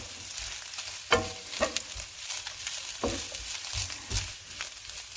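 Chicken sotanghon guisado stirred in a frying pan, a continuous sizzle broken by several scraping stir strokes, close and clear with no voices.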